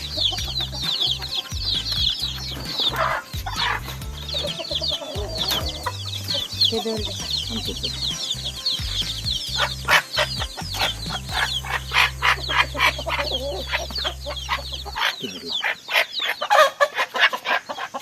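Several chickens cluck and chatter close by on a poultry farm, with a steady low hum running underneath for most of the clip before it drops away.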